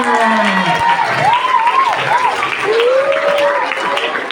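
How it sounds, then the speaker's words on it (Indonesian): Applause and cheering from a group of children in a classroom, mixed with shouting voices throughout. "Tepuk tangan untuk teman-temannya."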